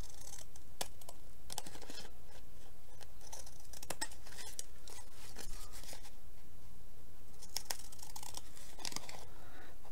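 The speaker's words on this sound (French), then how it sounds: "je vais revenir découper une petite bande autour, comme ça. Avec mon ciseau cranteur" Pinking scissors snipping a narrow strip of fabric, a string of crisp, close cutting crunches in an irregular rhythm over a soft background hiss.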